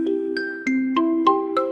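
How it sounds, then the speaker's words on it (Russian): An ice cream van's bell rings out a bright, tinkling melody of six evenly spaced chimed notes, close and clear, over a steady ringing tone. "Маленький фургончик с мороженым зазвенел."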